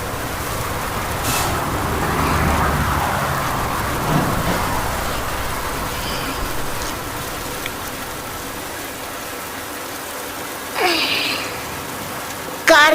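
Steady rain pours down around a car, a continuous broadband hiss that swells and eases slightly, with a few brief louder knocks and a short voice-like burst near the end.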